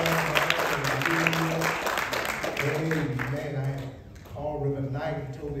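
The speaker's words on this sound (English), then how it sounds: "Let's get St. John and clap of praise." A church congregation at a revival service claps in praise, with the clapping running under loud singing or preaching voices and fading toward the end.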